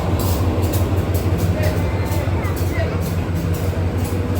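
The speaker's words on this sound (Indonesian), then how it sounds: "Ayo lihat kereta api sini yuk." A Pariaman Express passenger train rumbles past nearby, a continuous heavy low-frequency roll of wheels and carriages that holds steady throughout.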